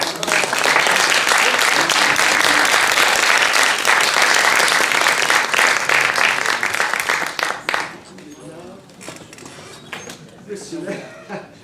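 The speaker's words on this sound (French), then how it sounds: "On peut les applaudir." Audience of about eighty people applauding at a meeting with a theatre troupe, loud sustained clapping for about seven seconds that thins into scattered claps, followed by people talking in the room.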